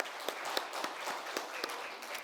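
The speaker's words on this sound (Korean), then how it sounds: "크게 영광의 박수를 돌리겠습니다." A church congregation applauds during a Sunday worship service, a faint, distant wash of clapping with a few sharper individual claps standing out.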